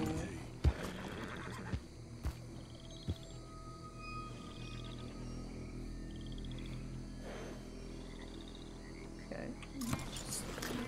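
A Tennessee Walker horse in a video game gives a whinny over scattered hoof clops, with ambient outdoor game sound and insect chirps in the background; a second neigh or snort comes near the end.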